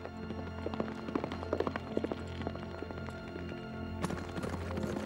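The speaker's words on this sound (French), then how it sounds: "Tempête, c'est le moment de prouver que tu es le cheval le plus rapide d'Europe" The horse Tempête moving at speed, hooves clip-clopping in a busy, irregular patter with faint ambient noise around it.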